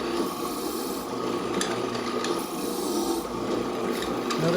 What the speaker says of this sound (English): Notice how I withdraw the drill a little bit to make sure I'm not leaving all that plastic in there